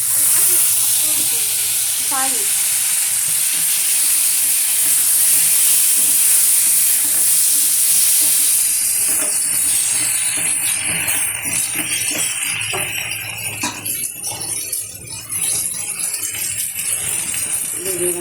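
Potatoes dropped into smoking-hot oil in a kadai set off a loud, steady sizzle and hiss that fills the whole stretch, easing slightly toward the end, with a voice talking over it.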